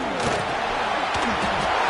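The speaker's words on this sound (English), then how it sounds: "This crowd trying to make life miserable for this offense." Stadium crowd at an American college football game, Georgia against Penn State, a dense continuous roar filling the background while a commentator talks over it.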